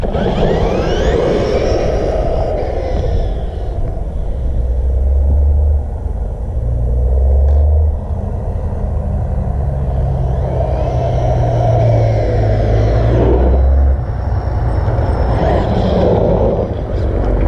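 A stock 2017 Honda Civic EX-T accelerating hard on a quarter-mile run, its engine a loud, sustained drone and rumble that climbs and drops through gear changes, heard close from inside the car.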